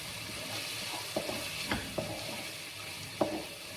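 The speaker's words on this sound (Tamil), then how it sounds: "போட்டு நல்லா வதக்கணும்" Ingredients including cumin powder sautéed in a pan for an egg masala curry, a soft continuous sizzle with several sharp scrapes and clacks of a spoon against the pan.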